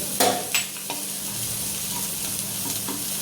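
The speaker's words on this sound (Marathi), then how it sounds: "खोबरं आणि तीळ दोन्ही संगच भाजून घ्यायचे" Grated dry coconut and sesame seeds roast together in a pan, giving a faint continuous hiss with a few sharp scraping stirs near the start; no talking.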